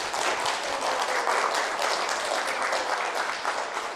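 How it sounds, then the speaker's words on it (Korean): Steady, dense applause from a lecture audience fills the whole stretch at an even, loud level without a break. "박수 한번 치세요."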